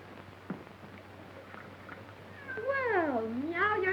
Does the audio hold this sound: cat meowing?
yes